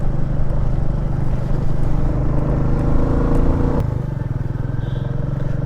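Royal Enfield Meteor 350 cruiser motorcycle cruising at about 100 km/h, its steady single-cylinder thump loud and close with wind rush, easing slightly toward the end.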